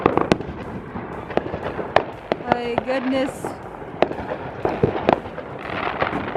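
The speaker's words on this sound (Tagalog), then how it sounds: "See the fireworks" Fireworks and firecrackers bursting in a neighborhood on the Fourth of July: repeated sharp pops and booms at irregular intervals, some near and loud, with a whistling rocket and people exclaiming between bursts.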